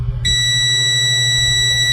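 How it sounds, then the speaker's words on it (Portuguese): A multimeter in continuity mode gives a loud, steady, high-pitched electronic tone that starts abruptly as the probes touch and holds unbroken to the end. "e o multímetro bipa."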